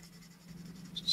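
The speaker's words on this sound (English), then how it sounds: "I'm just going to go about going over the entire thing with some emery paper" Brief, soft scraping of emery paper rubbed by hand over the body of a 1972 Ford Ranchero custom in preparation for paint, heard alone with no talk.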